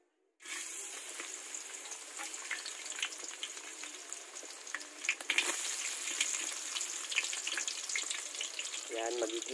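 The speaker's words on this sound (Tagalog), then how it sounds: "magigisa na ng sibuyas at bawang" Onion and garlic sautéing in a pan for a vegetable snack dish, a sudden loud sizzle bursting in after a brief silence and continuing steadily, with faint clinks and a brief tap-water splash near the end.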